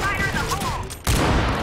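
A shotgun blast rings out at close range in the CrossFire shooter game, one loud burst about a second in that stays dense and loud to the end, with a faint tonal game sound before it.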